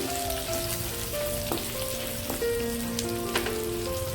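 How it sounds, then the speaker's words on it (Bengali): Chopped onions sizzle in a pan for restaurant-style dry chilli chicken, a steady, close crackling hiss with occasional scrapes and clinks of stirring running throughout. "পেঁয়াজগুলো দিয়ে আরেকটু নাড়াচাড়া করে নিচ্ছি"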